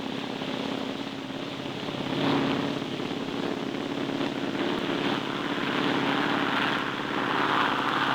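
An airliner's engines roar steadily through a takeoff roll, a continuous broad drone that swells slightly partway through and holds loud and even to the end, with no talk over it.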